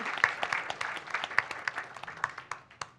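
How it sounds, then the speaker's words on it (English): An audience claps in a burst of applause, dense overlapping hand claps that hold steady and then thin out slightly toward the end, with no talking over it. "Give them a big round of applause as they walk up."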